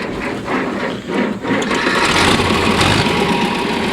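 A 1969 farm tractor's engine starts with a few uneven bursts, then settles into a loud, steady idle close by.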